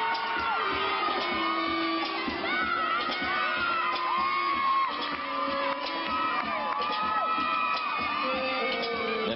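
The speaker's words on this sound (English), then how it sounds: "those screams of support you hear are coming from the Stanford team members" Stanford gymnastics team members scream and cheer in support at a packed college gymnastics meet against Georgia, a continuous dense wall of high shrieks and whoops from a large crowd with no talk.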